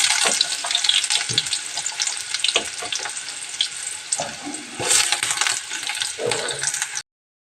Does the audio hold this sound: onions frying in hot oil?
yes